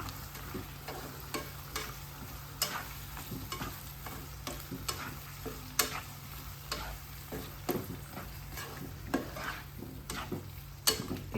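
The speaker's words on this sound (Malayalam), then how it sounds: "എല്ലാം കൂടെ നല്ലപോലെ ഒന്ന് മിക്സ് ചെയ്യാം നമുക്ക്" Chilli paneer with red chilli sauce being stirred and tossed in a frying pan, a continuous close sizzle under steady rhythmic scraping and tapping of a spoon on the pan.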